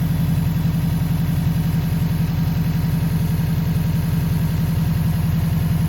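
A Subaru WRX with a swapped EJ20X engine idles steadily nearby, a loud, even, fast-pulsing boxer burble that runs unbroken with no voices.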